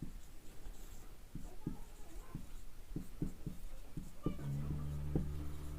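Marker or chalk strokes on a board during a Class 10 maths lesson on real numbers: a run of short, fairly close scratchy taps and squeaks, denser and louder toward the end, with no talking.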